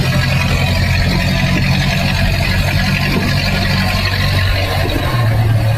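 A 1908 BSA car's engine runs steadily while driving, a loud continuous low mechanical drone with a constant throbbing hum and no breaks or talk.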